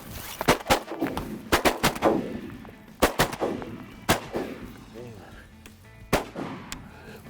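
Shotguns fire at wigeon ducks over a wheat field: a loud burst of several close blasts in quick pairs, then scattered single shots, with hunters' voices faintly between them.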